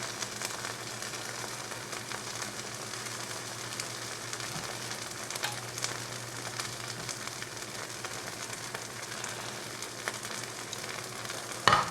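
Pineapple pieces sizzle in a pan for a homemade sandwich, a soft continuous frying hiss with occasional faint clinks, fairly quiet and steady with no voices.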